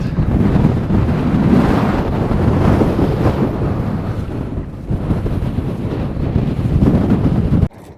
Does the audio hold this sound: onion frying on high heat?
no